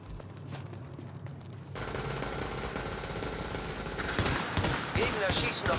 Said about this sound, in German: Gegner schießen auf eine Befestigung bei Alpha.